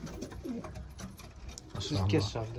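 Pigeons coo inside a loft where the birds perch in raised nest boxes, soft low calls strongest near the end and mixed with faint background talk.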